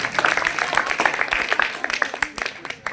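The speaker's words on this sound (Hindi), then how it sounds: "जोरदार तालियां बहन के लिए" A room of students at a coaching and computer centre gives a burst of clapping, a brisk, moderately loud patter of hands lasting a few seconds and fading toward the end.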